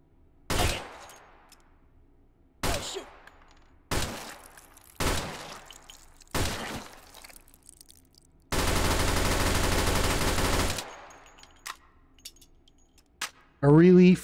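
Gunfire in the VR shooter Hot Dogs, Horseshoes & Hand Grenades: five separate sharp shots spaced a second or so apart, then a sustained automatic burst lasting about two seconds, with a brief sound near the end.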